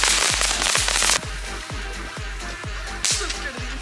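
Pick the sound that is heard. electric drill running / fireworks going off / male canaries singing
fireworks going off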